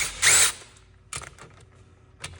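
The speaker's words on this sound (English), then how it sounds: "grab the impact and open this thing up and see what we can see" An impact wrench removes the bolts on a vehicle differential cover in a garage: one sharp, loud rattling burst up close, followed by two shorter, fainter bursts with quiet gaps between.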